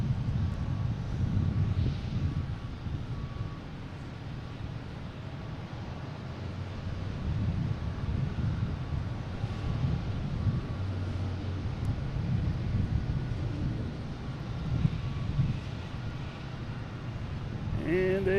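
JetBlue airliner arriving from JFK at Boston Logan, a moderate, steady engine rumble with wind noise across the microphone, continuous under intermittent commentary.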